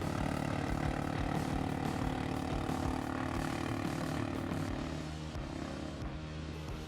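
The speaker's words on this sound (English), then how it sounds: "it's the cheapest ATV, but it also has enough torque to get over the hill" The small engine of a cheap ATV drones steadily as it climbs a hill, loud and continuous with a rough, buzzing tone, easing slightly toward the end.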